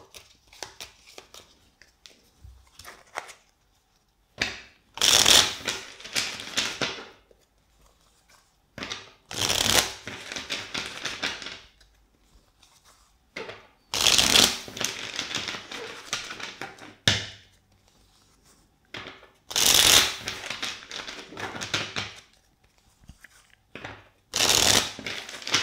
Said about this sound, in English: let's shuffle the deck four times for you